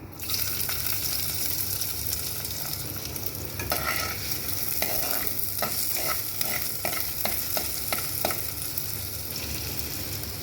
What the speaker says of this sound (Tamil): பொடியாக கட் பண்ணி வச்சுருக்கிற ஒரு வெங்காயத்தை சேர்த்துடலாம்